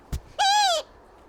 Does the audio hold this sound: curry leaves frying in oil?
no